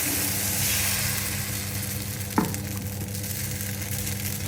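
Dosa batter poured onto a hot griddle sizzles in a steady, close frying hiss, with a brief soft knock partway through.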